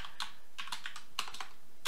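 Keys clack on a computer keyboard while text is typed in Blender 2.9, a quick, irregular run of close, light taps with short pauses and no voice over it.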